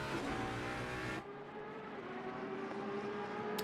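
Race car engines roar at the Nürburgring in Assetto Corsa Competizione, among them an Aston Martin V12 and a Ferrari Evo, a loud steady drone that cuts abruptly to a quieter engine hum.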